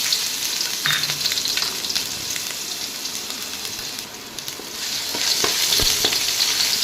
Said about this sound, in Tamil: பச்சை வாசனை போகிற அளவுக்கு நல்லா வதக்கிக்கோங்க